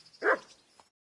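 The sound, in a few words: dog barking in the video game Kingdom Come Deliverance 2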